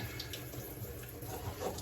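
Water from a hose sprays steadily onto an aquarium filter basket from a Fluval 207 canister filter during rinsing, a soft, continuous splashing hiss heard up close and alone for a brief moment.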